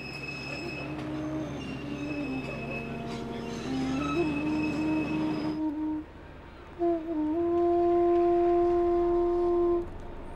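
Himalayan toy train running on the Siliguri to Ghum line, with a rumbling run, squealing wheels on curves and long tonal whistle-like squeals, loud and close, no voices.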